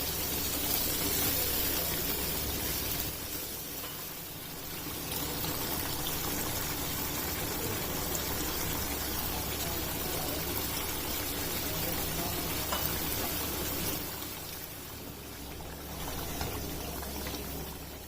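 Chicken karahi masala sizzles and bubbles steadily in a karahi over a high flame, a dense, continuous frying hiss with slight swells, close and fairly loud with no talking.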